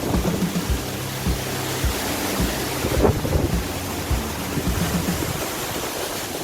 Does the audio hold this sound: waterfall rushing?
yes